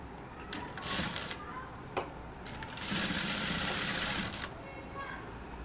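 A sewing machine top-stitches a blouse neckline in two bursts of rapid, steady mechanical whirring with a short pause between them, heard close and fairly quietly.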